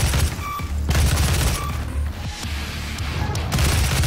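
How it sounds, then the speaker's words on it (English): Assault rifle firing in the video game Doom (2016), loud rapid bursts of gunfire mixed with booms and mechanical clatter over a steady, dense game soundscape. "we got the machine gun again. I mean the assault rifle."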